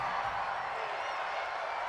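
Stadium crowd at an NFL football game between the Atlanta Falcons and New England Patriots roars as a broad, steady wash of noise with faint cheering and whoops, sustained without pause.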